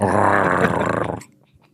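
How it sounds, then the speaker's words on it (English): Processed, growling smoke wolves in a commercial give a loud, dense snarling rumble for about a second before cutting off abruptly, leaving near silence. "they're surrounded by smoke wolves. Yeah. You can even hear them."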